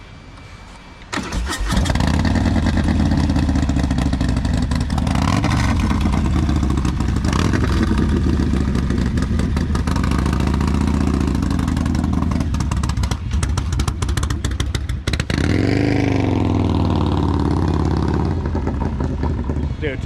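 A rare fuel-injected motorcycle engine fires up after a quiet start and runs loudly and steadily close by, with a rev change partway through and people talking over it.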